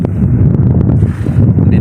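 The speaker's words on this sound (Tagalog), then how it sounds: "Gumagapang kasi yung hangin kaya malakas." Strong wind buffets an outrigger fishing boat at sea, a loud continuous low roar of gusts with steady rumble filling the whole stretch.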